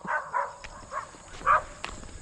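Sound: dog

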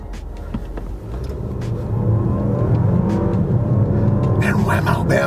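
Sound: 2024 Dodge Hornet R/T accelerating hard off the line

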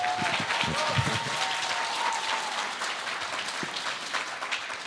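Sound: audience clapping

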